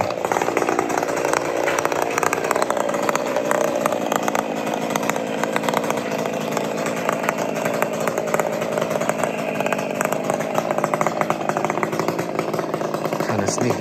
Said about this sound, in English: So he started an annual trimming of the linden trees.